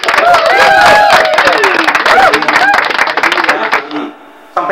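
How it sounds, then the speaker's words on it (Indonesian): An audience breaks into a burst of clapping at an online-shop business seminar, dense and fairly loud at first, mixed with voices, then thinning out and fading near the end. "Tepuk tangan dulu dong."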